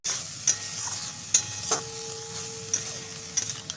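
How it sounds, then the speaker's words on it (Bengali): Mustard spice paste being stirred in a frying pan for a puti fish chorchori, with a spoon scraping in a few sharp knocks against the pan over a faint, steady sizzle, close and fairly quiet. "এবার কিছুক্ষণ নাড়াচাড়া করার পরে তো মশলা ধোয়া জলটাও দিয়ে কিছুক্ষণ নাড়াচাড়া করে নেব মানে একটু কষিয়ে নেব"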